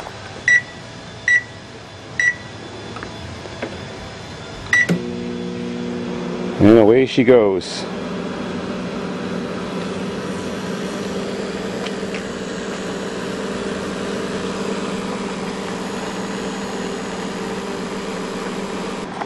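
A repaired microwave oven running with its cover off gives a steady, moderately loud hum with a low electrical drone. It sets in after a few beeps and a short clunk, and someone speaks briefly beforehand.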